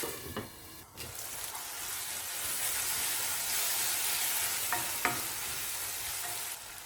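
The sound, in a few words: tomatoes sautéing in a pan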